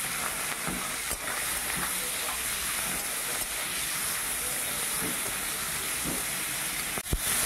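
Turmeric-and-salt-coated prawns fry in hot oil in a home kitchen, giving a steady, even sizzling hiss that runs throughout, with a couple of brief clicks near the end.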